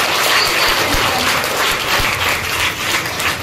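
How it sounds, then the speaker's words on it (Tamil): An audience applauds at a school event, loud and close, the dense clapping holding steady from start to finish with no voices on top. "ஆனால் இப்போது உங்கள் கைத்தட்டி கிடைக்கும் என்று நம்புகிறேன்."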